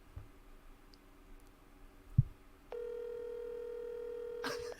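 A click, then a steady electronic ringback tone comes on over a phone line and holds for about two seconds, fairly loud against quiet background hiss.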